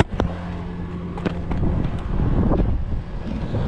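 Heavy wind roars and buffets the microphone in a low, continuous rumble, with a few brief knocks and clatters near the start.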